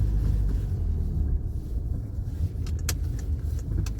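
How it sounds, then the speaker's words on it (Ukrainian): A car pulls out of a parking lot and drives off, giving a steady low engine rumble and road noise from inside the cabin, with a few brief clicks and rattles. "оце ми від'їжджаємо від паркінгу вже додому"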